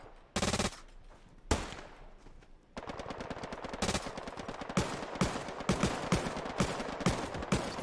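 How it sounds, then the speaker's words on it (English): Rapid bursts of MG42 machine gun fire in a Hell Let Loose WW2 battle, loud and close, with long rattling volleys and scattered single shots over steady battlefield noise, no talking. "The MG42 is like right in front of us here somewhere."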